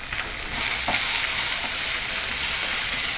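Onion, green chillies, dried red chillies and a pinch of asafoetida sizzle and crackle steadily in hot oil in a pan, a close, continuous frying hiss with faint stirring scrapes throughout.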